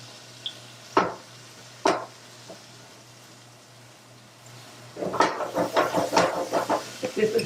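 Red wine, about a quarter to half cup, hitting a hot pan for a lamb jus: a couple of sharp clanks first, then from midway a loud burst of crackling sizzle with rapid spitting pops, close by.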